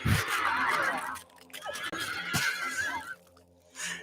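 A horse in a video game gives a loud, close whinny, with a second shorter neigh and a brief snort trailing after, with no talk over it.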